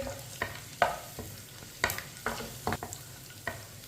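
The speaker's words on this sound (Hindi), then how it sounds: "इसे ऐसे ही चम्मच चलाते हुए भूनना है।" Cumin seeds and dried red chillies sizzling in a pan over medium-low heat, a spoon scraping and knocking through them in irregular strokes, close and quiet with no voices.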